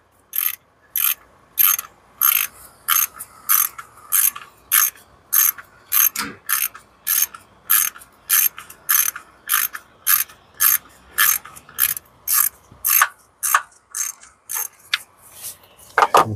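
A ratchet clicks in quick, regular bursts of repeated strokes, close and crisp, while bolts are loosened from the valve cover of a 2004-2006 BMW X3 E83. The clicking continues steadily for the whole stretch with no talk.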